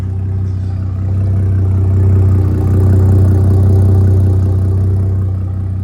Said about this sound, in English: Nice grumble on the vehicle.